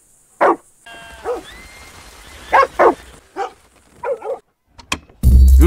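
A dog barks in Red Dead Redemption 2, several separate close barks and yips spaced irregularly, ending in a sudden loud burst of noise.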